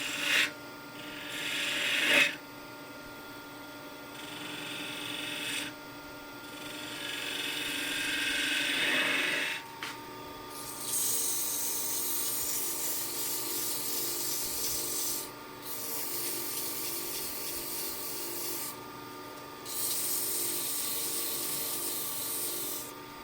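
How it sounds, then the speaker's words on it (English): Close, steady rasping and scraping of a small, long-bevel gouge cutting into an end-grain wooden bowl, long continuous strokes broken by brief pauses, with no voices. "The smaller gouge with longer bevel."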